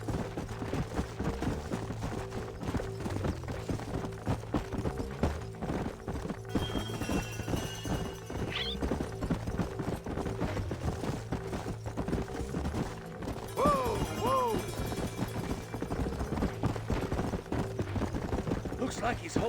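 Horses' hooves clip-clop steadily in the Red Dead Redemption PC game, a continuous rhythmic trotting close by, with brief whinnies and voices talking over it.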